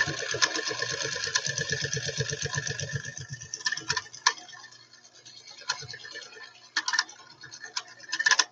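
A high-speed industrial sewing machine runs in a fast, steady rhythmic whir for about three seconds, then falls quiet apart from scattered clicks and handling noises of fabric being adjusted.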